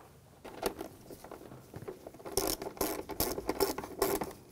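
Ratchet wrench tightening nuts on a camshaft position sensor of a 2006-2010 BMW 550i 4.8L V8, giving close, quiet bursts of rapid clicking in several short strokes.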